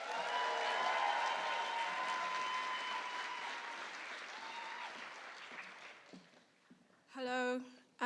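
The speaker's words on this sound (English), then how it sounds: "Please, everyone, give Pemi a round of applause." Audience applause at a book awards event fills the room with a dense wash of clapping that slowly thins and fades out, followed by a single voice speaking into a microphone.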